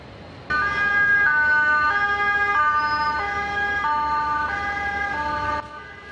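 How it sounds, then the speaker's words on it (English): Placer County Sheriff siren during a wildfire evacuation, a loud electronic two-tone wail stepping between pitches repeatedly and alone without talk. "That is the Placer County Sheriff with a get out warning."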